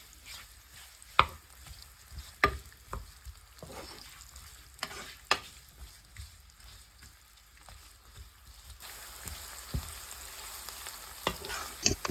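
Onions frying in ghee with cinnamon, cloves and cardamom make a soft steady sizzle, broken by sharp clacks and scrapes of a spoon stirring against the pan, and the frying grows louder toward the end.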